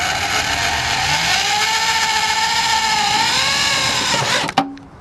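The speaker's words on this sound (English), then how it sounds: "I'm just going to drill right in" A power drill bores a hole in a wide-body fender for a Nissan 350z, whining loudly and steadily for over four seconds, the pitch drifting under load before an abrupt stop with a clunk.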